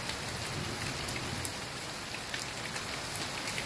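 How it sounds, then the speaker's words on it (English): Heavy California rain pours down hard, a loud, dense patter and hiss with scattered sharper drops striking nearby surfaces. "Raining pretty hard."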